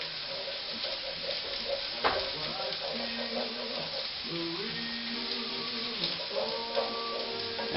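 Garlic and shallots sauté gently in a pan for pizza-dough arrabbiata, making a soft, continuous sizzle with a few clicks and scrapes of a utensil. One sharp knock stands out near the middle.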